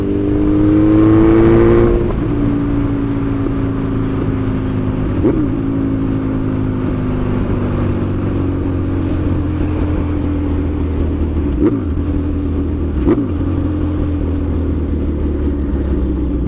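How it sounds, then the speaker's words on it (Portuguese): A Suzuki Bandit 1250 motorcycle engine idles with a steady, throaty rumble after a brief rev at the start, its pitch dropping and settling, with occasional small blips. "uma acelerada, é a hora que faz o barulho mais gostoso na moto"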